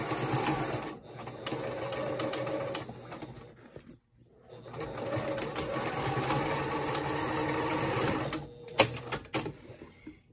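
A sewing machine stitches a lined zippered pouch in two long, loud, close runs of rapid whirring, broken by a short silent pause and ending in a few clicks.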